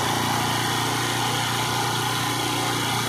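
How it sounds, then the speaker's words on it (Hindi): A Bajaj Platina 110 motorcycle engine runs steadily at high revs, held at top speed with a continuous, buzzing drone close by and no talking. "आप यहां पे देखिए बाइक का जो है सो टॉप स्पीड हो गया"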